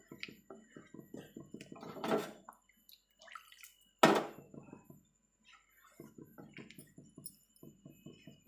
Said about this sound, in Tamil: நான் இந்த அளவுக்கு தண்ணி ஆட் பண்ணிக்கிட்டேன்.